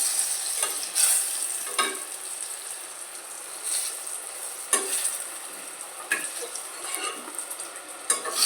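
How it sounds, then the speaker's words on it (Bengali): Eggplant slices and green chillies frying in oil in a pan, a steady close sizzle broken by occasional louder crackles and stirring scrapes, with no voices. "এবারে বেগুনটাও অনেকটা ভাজা হয়ে এসছে লঙ্কাগুলো তার আগেই আমি তুলে নেব"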